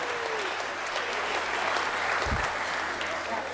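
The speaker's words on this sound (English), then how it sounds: "Round of applause for Jasper" Congregation at an Easter Sunday church service claps for a boy named Jasper, a steady wash of applause throughout with a brief low thump midway.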